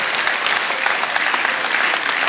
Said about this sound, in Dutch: Geef ze even een applaus.